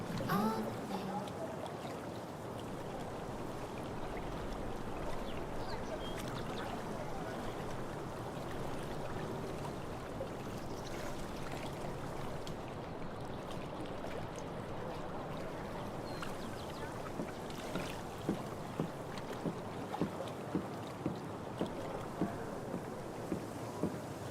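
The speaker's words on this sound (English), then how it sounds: "If not for the paddling, kayaking would be super relaxing." Kayak paddling on calm water in the game Life Is Strange: True Colors gives a soft, steady wash of water and breezy ambience, with faint rhythmic paddle splashes that grow more regular toward the end.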